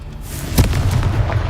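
Confringo, an explosive fire spell in the Hogwarts Legacy video game, goes off as a single sharp magical blast with a crackling burst over a low ambient game rumble.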